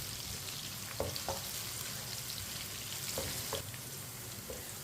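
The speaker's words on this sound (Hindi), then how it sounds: "सब्ज़ मिर्च को मैंने 1 मिनट के लिए फ्राई कर लिया।" Green chillies fry in a pan with a steady, soft sizzle, broken by a few brief clinks and scrapes of a spoon, close but quiet, with no talking.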